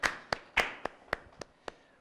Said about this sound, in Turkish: Urfa Spor'a bir alkış alalım hep beraber.